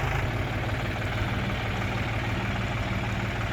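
A Mahindra Yuvo 585 4WD and a John Deere 5050D, both 50 hp tractors, idle together in a continuous low, throbbing rumble that stays close and even, with no voices.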